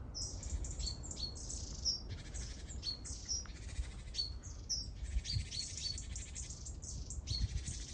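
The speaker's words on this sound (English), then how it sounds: "Definitely great tit and blue tit though" Great tits and blue tits chirp and trill continuously at a moderate distance, overlapping high calls and buzzy notes against a faint low rumble.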